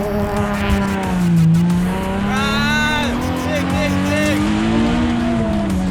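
A road racing car engine revs and wails nearby on a track, rising and falling as it drifts, with tire squeal mixed into the roar and a voice talking over it.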